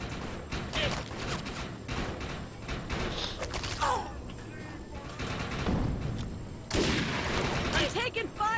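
Gunfire from the video game Defiance sounds in rapid, overlapping bursts of shots and thuds, loud and continuous, mixed with other game effects and occasional voices.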